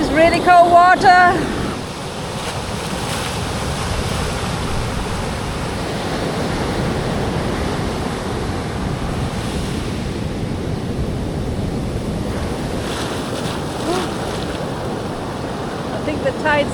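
Ocean surf on a Chilean beach with the tide coming in, a broad continuous wash of breaking waves that swells and recedes, with a short burst of louder noise at the start.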